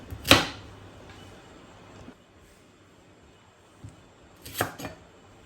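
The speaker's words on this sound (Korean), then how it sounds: "먹기 좋은 크기로 먹기 편하게 잘라주면 될 것 같습니다" Knife chopping vegetables into bite-size pieces on a cutting board, with a few sharp, separated knocks: a loud chop near the start, softer taps around two and four seconds, then a quick cluster of cuts near the end.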